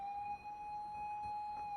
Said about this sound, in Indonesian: Akagi mendengar sirene polisi